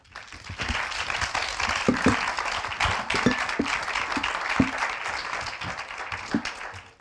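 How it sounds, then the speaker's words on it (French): Audience applause at a round-table conference, a moderate, steady patter of many hands clapping for several seconds with a few sharper individual claps standing out, fading at the end. "On peut les applaudir."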